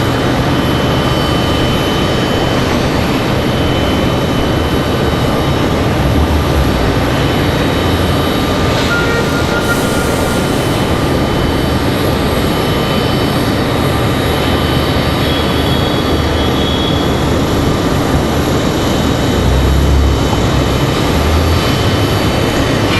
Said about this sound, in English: This A320-200. JetBlue 2285.